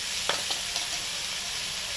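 Fried potato going into a pan of frying soybean and onion, giving a steady soft sizzle with a few faint stirring scrapes near the start.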